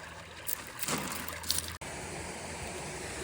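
Steady broadband rush of water pours from a waterfall while fossil hunting for shark teeth, a constant close wash with a couple of brief knocks and clicks over it.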